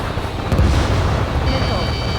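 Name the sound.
explosion of an AA gun in video game Ace Combat 7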